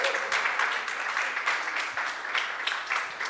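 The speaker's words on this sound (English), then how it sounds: "Let's give a hand clap to God for that." A church congregation claps steadily in a large room, a sustained wash of applause at moderate volume with no talking.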